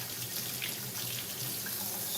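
A kitchen tap runs steadily while vegan food is rinsed, a close, continuous splashing hiss of water into a sink, with no talking.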